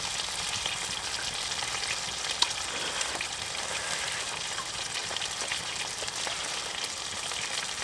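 Burger patty frying on a portable camp stove at a primitive wild campsite, a steady crackling sizzle that holds evenly from start to finish at close range, with no talking.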